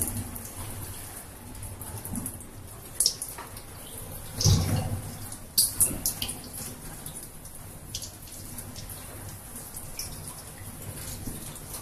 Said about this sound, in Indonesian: di bawah air mengalir.